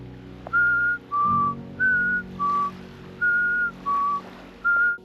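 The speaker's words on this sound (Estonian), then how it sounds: "Aga kui sa vilistad, siis nad tegelikult tulevad välja." A person on a remote island shore whistles to coax hermit crabs out of hiding: seven short, clear whistled notes alternating between higher and lower pitches in a steady rhythm, close and alone with no talking.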